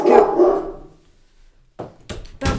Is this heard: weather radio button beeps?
no